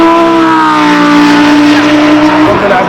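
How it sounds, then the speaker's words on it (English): A Ferrari naturally aspirated V12 with 850 horsepower, heard at the Goodwood Festival of Speed, gives a loud, steady high-pitched wail with a bright tonal note that holds for a few seconds and then dips slightly. "naturally aspirated V12 engine, 850 horsepower"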